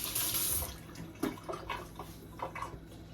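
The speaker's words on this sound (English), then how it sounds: "Just gonna wash my hands off real quick." Water runs from a kitchen tap as hands are washed, a steady hiss that starts strongly, then turns into splashing and uneven gurgles close by, with no speech.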